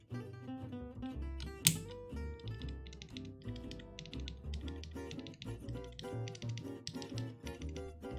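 Keys clack on a Korean mechanical keyboard fitted with new switches, a steady run of close, fairly deep taps over a continuous tonal background.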